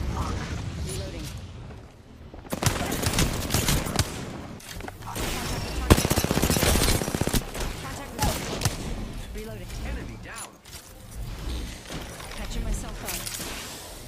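Dense video game gunfire in a sci-fi shooter with a jetpack, rapid fusillades and booms sustained loud throughout with brief lulls, while a player talks over the action.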